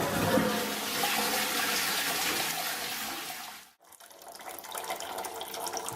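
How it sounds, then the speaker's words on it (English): A toilet flushes with a loud, close rushing of water that cuts off abruptly, followed by the softer steady hiss of the cistern refilling. "So just about to do the flush."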